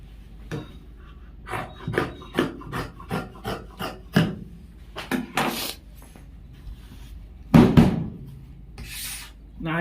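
A tailor cuts fabric for a pair of gents' pants. A run of crisp, evenly spaced snipping strokes is followed by a few irregular scraping cuts, close and moderately loud, with light handling noise between them.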